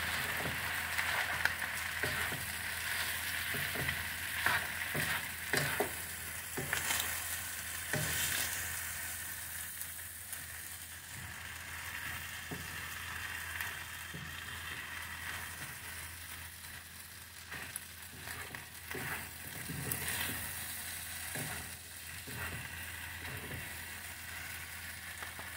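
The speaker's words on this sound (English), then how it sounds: "Must use high heat when frying." Stir-frying with soy sauce over high heat: continuous crackling sizzle with scattered sharp spatter pops and occasional scraping stirs, close and fairly quiet, no talking.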